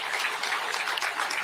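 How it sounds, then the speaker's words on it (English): A crowd applauds at a ship commissioning ceremony in Kisumu, with dense, steady clapping throughout. "A round of applause for these two good people."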